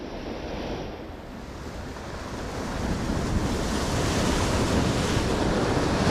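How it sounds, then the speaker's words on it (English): Ferocious ocean swell crashes over shallow reefs at night, a dense, continuous roar of surf and wind buffeting the microphone that builds slightly louder and carries on without any voices. "That water, if I could show you, it is just literally white with how ferocious that swell is."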